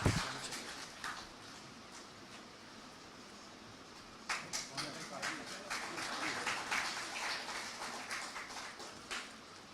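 Audience applause at an education awards ceremony, scattered claps that swell into a fuller burst midway, with a voice speaking over the crowd.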